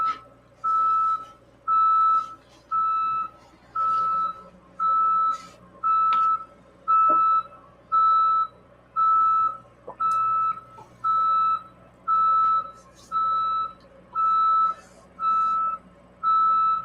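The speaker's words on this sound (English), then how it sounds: "I hear that beeping getting louder." Steady truck reversing beeps repeat about once a second, loud and regular, over a low engine rumble with faint background noise.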